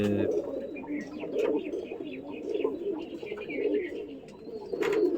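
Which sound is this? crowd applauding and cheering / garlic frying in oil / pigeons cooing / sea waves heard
pigeons cooing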